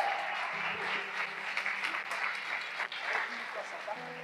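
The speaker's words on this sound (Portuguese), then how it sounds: "Aplaude Jesus" A church congregation applauds during a pastor's service, with steady clapping heard at a fairly low level throughout. Voices carry on over the applause.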